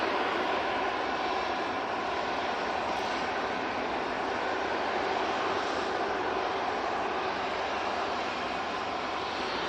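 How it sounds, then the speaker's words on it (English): A Ryanair airliner on final approach into Manchester Airport from Rome, a loud, steady engine roar filling the whole stretch without letup, heard alone. "we've got the Ryanair coming in from Rome"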